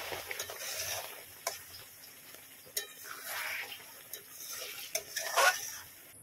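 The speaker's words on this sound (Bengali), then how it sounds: "ভালো করে মশলার সাথে মিক্স করে নিয়ে নামিয়ে নেব।" Mango pickle being stirred together with fried spice mix in a pan: soft scraping and a few sharp clicks of a spoon against metal over a faint sizzle, close and fairly quiet, without talk.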